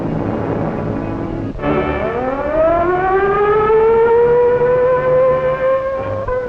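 A civil defense air raid siren from 1943, part of a large siren system across Canada's Lower Mainland, winds up after a brief break, its rising wail climbing in pitch and holding loud and steady.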